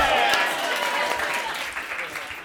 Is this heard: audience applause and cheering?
yes